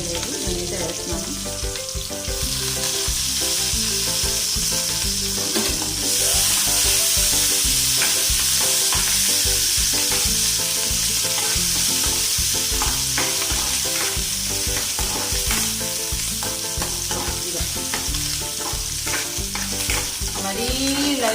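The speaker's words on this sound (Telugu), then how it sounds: "మరీ లైట్ అండ్ బ్రౌన్ కాకుండా ఒక లైట్గా వచ్చే వరకు ఆనియన్స్ని ఫ్రై చేద్దామండి" Onions and green chilies fry in a pan for egg semiya noodles, a loud continuous sizzle broken by frequent scraping stirs and clinks of a spatula against metal, with no voices.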